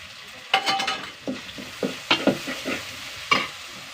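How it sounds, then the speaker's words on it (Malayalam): Small onions, ginger and garlic frying in a pan, with a steady low sizzle broken by several sharp scraping stirs of a spoon against the metal, close and moderately loud. "ഉള്ളി ഒന്ന് നന്നായി മൂത്ത് വരട്ടെ ചെറിയ ഉള്ളി ഞങ്ങളുടെ ഇഞ്ചിയും വെളുത്തുള്ളിയും കേട്ടോ"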